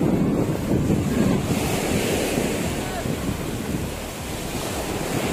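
Strong wind buffeting the microphone at a seaside beach resort, a broad continuous roar mixed with surf washing in the background, steady throughout with no voices.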